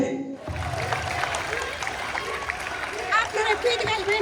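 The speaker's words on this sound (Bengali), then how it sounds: "তার জন্য কি একটা হাততালি হতে পারে?" A seated audience at an English-learning prize event gives a round of applause, a steady broad wash of many hands clapping that swells slightly near the end, with a voice over it.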